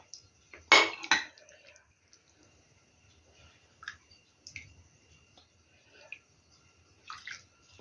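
Summer red borscht is ladled into a plate: a loud liquid pour with clinks, then scattered soft taps and small splashes of a ladle against the plate.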